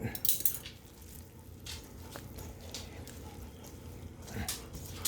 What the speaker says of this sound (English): I'm going to use my spatula to mix it all up